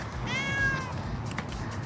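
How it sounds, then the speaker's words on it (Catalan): A kitten stuck up in a tree meows once, a clear rising-falling cry standing out over low background noise, with no talk around it. "Que el meu gatet s'ha enfilat a l'arbre i ja no pot baixar."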